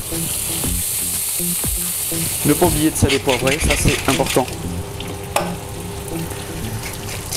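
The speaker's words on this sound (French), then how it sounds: "On va prendre ces petits morceaux de foie gras qu'on va mettre dans une poêle bien chaude comme ça." Small pieces of foie gras fry in a very hot pan, giving a steady, loud sizzle that swells with stirring midway, while someone speaks over it.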